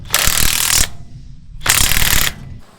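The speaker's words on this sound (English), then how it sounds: "I got all 4 bolts to tighten up on the gearbox" Ratchet tightening a bolt on a farm gearbox, two quick bursts of rapid, loud metallic clicking close by, separated by a brief pause, with no talk.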